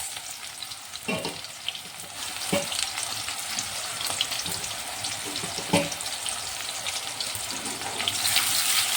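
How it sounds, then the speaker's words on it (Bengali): Chopped onions frying in a pan for a chicken curry, a continuous sizzle broken by scattered scrapes and knocks of stirring, getting a little louder near the end, with no voice over it. "একটু নেড়ে নেবো বাদামি কালার আসা অবধি"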